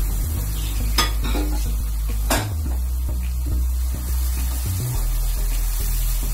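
Pureed tomato and green chili hit a hot pan with butter, giving a steady low sizzle with scraping spatula stirs and a couple of sharp metallic clinks, close up.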